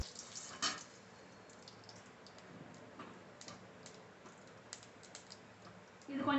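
Fennel, mustard seeds and bay leaves sputter in hot oil for a chettinadu pepper chicken gravy, a dense steady crackle of small pops with a few sharper spits, no talking.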